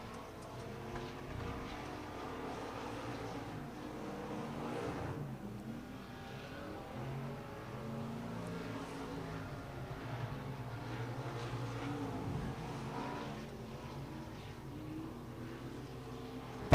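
USRA stock cars racing in an A feature at Rocket Raceway Park, a continuous loud roar of engines droning and swelling as the cars circle the track, with no pauses.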